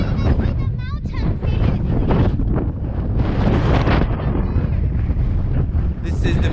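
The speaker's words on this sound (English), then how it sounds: "It's still windy." Strong wind buffets the microphone outdoors in Iceland, a loud, continuous roar with gusty rumble that persists throughout, and faint voices may mix in briefly.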